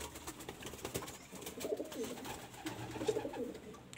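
A male pigeon coos in a loft in Kolkata, with soft low rolling calls repeating through the middle of the clip over a steady faint background hum.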